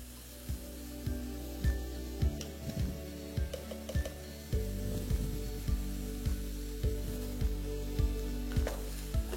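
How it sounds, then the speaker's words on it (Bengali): Onions sizzling in a pan with a pinch of salt, a steady bright hiss broken by regular scraping strokes of stirring, close and continuous without any talk. "পেঁয়াজটা যাতে একটু তাড়াতাড়ি ভাজা হয়ে যায় সেই জন্য দিয়ে দিচ্ছি অল্প একটু নুন"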